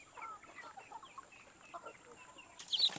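Hubbard broiler chickens cluck softly in a farm pen, with faint scattered clucks throughout and a brief louder squawk near the end.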